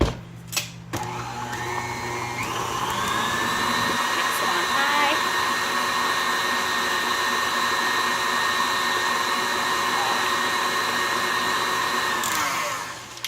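Electric mixer whirring steadily while mixing cookie dough with vanilla, a continuous close motor drone lasting several seconds, starting after a few brief knocks and cutting off near the end.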